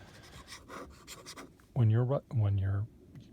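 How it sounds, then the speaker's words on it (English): Faint scratchy pen strokes on paper at the start, followed by two loud, sustained voiced tones, like humming, filling the second half. "the sound that the pen makes on a particular paper"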